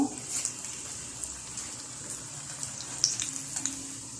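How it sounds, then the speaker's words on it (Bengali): Steady, soft sizzling of egg chops frying in hot oil, with faint crackles and a few louder pops throughout. "এইভাবেই আমি সুন্দরভাবে ভেজে তেল ঝরিয়ে সবগুলো চপ ভেজে নেব"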